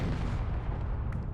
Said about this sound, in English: now I have heard an explosion and this was maybe the jump drive room on the other.